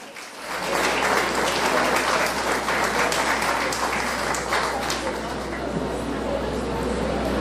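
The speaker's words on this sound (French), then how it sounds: "Je vous demande d'applaudir Marie-Françoise Astrid Syndic, qui est membre du jury ce soir" Sustained crowd applause at the Miss Haiti 2022 grand final, as a jury member is introduced: dense, loud clapping that starts abruptly and holds steady, with voices mixed in.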